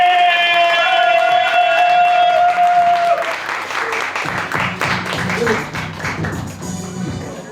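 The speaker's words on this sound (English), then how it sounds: "Start clapping. Start clapping." A crowd at a youth poetry slam claps and cheers, the noise swelling loud and dense after a sustained shouted or sung tone at the start.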